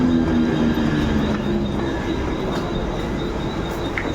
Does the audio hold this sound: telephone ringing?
no